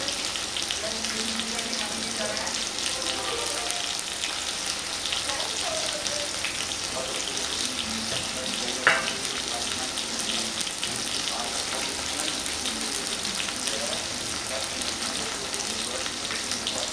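Onions sautéing in a pan for a South Indian tamarind curry, a steady close sizzle of frying that runs throughout, with faint stirring and a single brief clink partway through.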